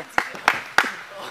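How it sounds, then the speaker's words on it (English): Sparse applause at a backyard wrestling show: three distinct, separated claps in a slow rhythm, fairly close and faint, with a voice murmuring between them. "Don't clap for him."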